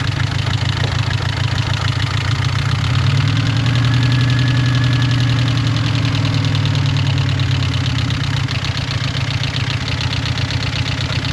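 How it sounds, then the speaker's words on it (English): An engine idles roughly on its automatic choke, giving a loud, steady drone with a low throbbing pulse that runs unbroken for the whole stretch. No one talks over it. "I think it was running rough because it was running on choke"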